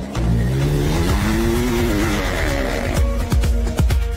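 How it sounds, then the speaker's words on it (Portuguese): An AI-generated off-road trail vehicle engine revs and rises in pitch alongside a guitar playing, loud and close, with sharp plucked or struck notes punctuating the end. "a Meta colocou uma guitarra tocando junto com o motor de um veículo de trilhas"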